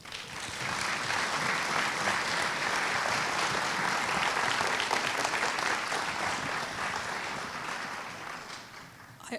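An audience claps warmly to welcome artist Lisa Yuskavage to an artist talk, a dense, steady round of applause that swells quickly, holds for several seconds and then tapers off.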